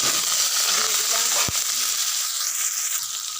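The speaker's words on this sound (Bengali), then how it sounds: "এই যে কড়াইয়ের মধ্যে এবার আমি শুটকি মাছগুলো দিয়ে দিলাম" Dried shutki fish frying in a wok, a loud, dense sizzle of hot oil that holds steady throughout, with one sharp knock partway through, close up and without speech.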